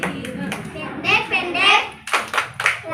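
Children chant together and clap their hands in rhythmic bursts during a clapping song at a community celebration, with sharp broadband claps cutting between the young voices close by.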